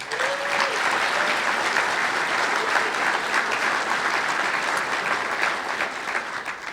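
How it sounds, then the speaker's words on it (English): Steady, dense applause from a large audience at a sheriff's awards event, continuous and loud for several seconds before easing slightly at the end. "Let's give them a round of applause as well."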